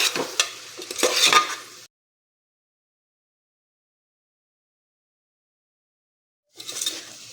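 Spices stirred into a papdi (flat bean) vegetable curry cooking in a pressure cooker without water: a loud scraping, sizzling stir for under two seconds, then silence, then a brief return of stirring near the end.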